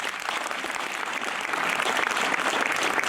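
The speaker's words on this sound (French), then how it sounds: "Je souhaiterais que vous le fassiez un petit applaudissement." Audience clapping together at a 70th anniversary celebration, a dense, sustained wash of applause from many hands that swells slightly louder toward the end.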